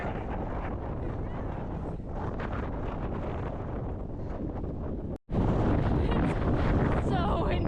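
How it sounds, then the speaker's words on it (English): Strong wind on an open mountain summit in North Carolina, a loud continuous roar buffeting the microphone, briefly cutting out and returning even harder. "It's so windy. I can barely walk."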